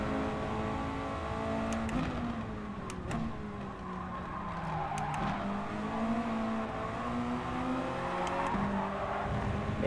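Mazda Miata engine in GT Sport racing, revving up and down through gear changes with a steady drone and brief tire squeal, close and continuous for the whole stretch.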